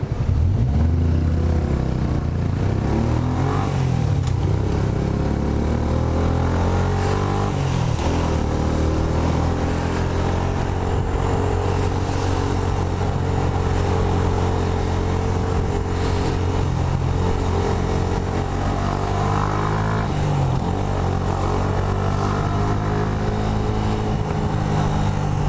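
A Yamaha R125 motorcycle with a Scorpion exhaust drones steadily while riding, its exhaust rumbling with shifting pitch as it revs and eases, with constant wind noise throughout.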